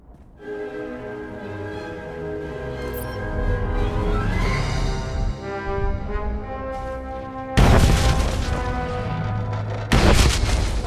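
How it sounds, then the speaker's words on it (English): Charges detonate in the Star Wars: The Old Republic game, a booming blast that rolls in and swells, then two sharp, loud explosive bursts crash close together near the end over a droning rumble. "The charges have detonated."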